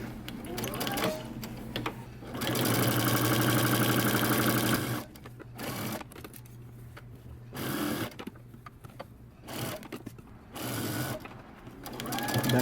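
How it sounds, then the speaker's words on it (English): A home sewing machine stitches down a 5/8 inch seam on a men's button-up shirt sleeve cuff, running in loud steady mechanical bursts separated by short pauses and quiet handling. "take this over to your sewing machine and you want to stitch it down 5/8 inch seam allowance"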